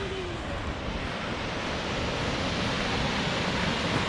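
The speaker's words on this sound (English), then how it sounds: "That's a pretty decent waterfall." A steady, broad roar of a waterfall in Colorado fills the clip, constant and fairly loud, with no voices.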